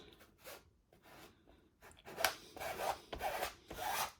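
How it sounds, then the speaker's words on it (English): A scraper spreading leftover glue over sublimated fabric for a junk journal cover, heard as close, dry rasping strokes that start soft and grow louder and longer toward the end, with no voices. "Just get some leftover glue from my scraper, and let's"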